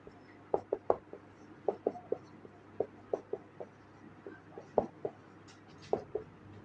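A pen writes on paper while a Class 7 maths exercise is worked out, giving quick light scratchy strokes in uneven bursts, close but faint, without speech.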